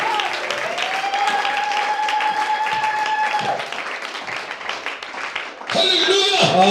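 A church congregation applauds during a worship service, a continuous patter of many hands clapping under raised voices, with a louder surge near the end.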